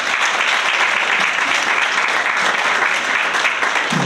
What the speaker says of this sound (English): So how about one more round of applause?